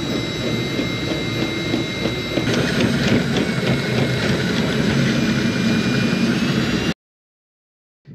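A 3D printing filament winder runs at full speed, giving a continuous mechanical whir with steady high tonal whines and a busier rattle partway through, then cutting to silence near the end.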